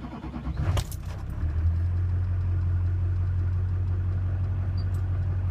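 A Duramax diesel truck engine, plugged in but still cold, cranks briefly and then fires up into a steady, deep, loud idle that holds to the end.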